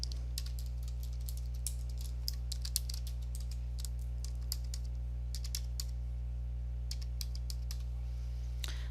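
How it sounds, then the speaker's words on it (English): Fingers type on a computer keyboard while entering a name and date of birth, producing quick, irregular clusters of crisp key clicks over a constant low electrical hum, with no talking. "You're required to first type in their name and date of birth."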